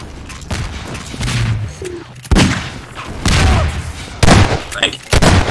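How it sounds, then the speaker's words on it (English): Shotgun blasts in a Half-Life 2: Deathmatch match sound as several loud, sharp bangs spaced a second or so apart, mixed with game noise and brief player chatter. "what the hell, shotgun?"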